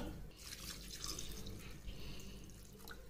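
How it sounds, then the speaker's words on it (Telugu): Water pours into a pot of mutton curry, a soft continuous splashing and trickling heard close up and fairly quiet, with no talk over it. "మనకి తగినన్ని నీళ్ళు వేసుకుందాం."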